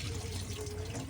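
A kitchen faucet runs steadily into a sink during dishwashing, a faint, even hiss of flowing water with no talking.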